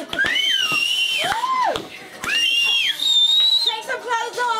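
At a 40th birthday party, a person whistles in loud, sweeping high notes that rise and fall in pitch, with other voices calling out around them.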